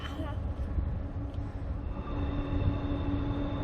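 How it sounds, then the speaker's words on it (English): A train rumbles past on the railway, a low steady drone with faint tonal hums seen through the trees from a short distance, continuing without a break. "There's some train action."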